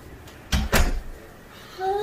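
A door at a Leavenworth guest house swings shut in two quick, solid knocks close together, loud and near, followed by quiet room tone.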